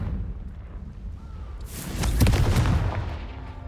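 A magical Confringo fire spell explodes in a fantasy video game, a muffled blast that swells out of a low rumble and crackles for about a second and a half before dying down.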